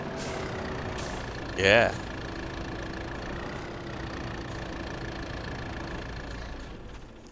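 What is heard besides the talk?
truck and tractor engines in video game Farming Simulator 22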